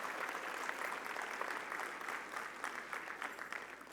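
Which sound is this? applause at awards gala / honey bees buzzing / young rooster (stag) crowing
applause at awards gala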